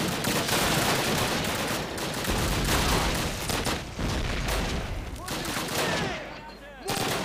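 Sustained machine gun fire and a dense fusillade roar through a Call of Duty battle, loud and nearly continuous, with overlapping bursts and booms that thin out briefly toward the end.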